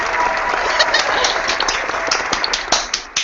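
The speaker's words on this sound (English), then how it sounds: "Let's give her a round of applause." A live audience gives a round of applause at a comedic dramatic reading, a loud, dense burst of clapping with a few sharp individual claps standing out toward the end.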